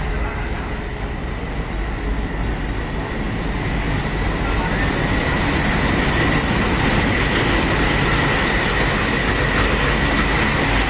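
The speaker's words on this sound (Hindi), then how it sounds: "ट्रेन आने वाली है" A train pulls in at Jaunpur Junction railway station, its loud, steady rumble of rolling wagons and rail clatter filling the whole stretch close by, with faint station voices beneath.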